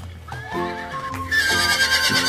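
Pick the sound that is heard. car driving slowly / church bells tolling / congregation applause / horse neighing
horse neighing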